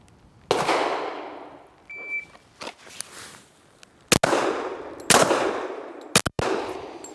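Gunshots from a single handgun in a timed three-target transition drill on a shooting range, several loud sharp reports in uneven bursts with pauses between targets and ringing decays.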